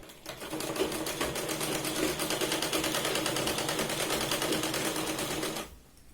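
A sewing machine runs steadily, stitching a Punjabi top's fabric in a fast, even mechanical rhythm for several seconds before stopping abruptly near the end; close and loud, with no talking.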